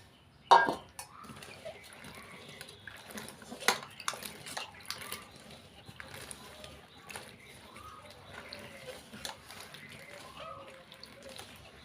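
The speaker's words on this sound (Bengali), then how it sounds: "জল দিয়ে ভালো করে ধুয়ে নিচ্ছি কুলগুলো" Jujube fruits being rinsed by hand in water in a bowl at home before making a sweet, sour and spicy pickle, with a sharp splash near the start followed by steady sloshing and soft clinks; no talk over it.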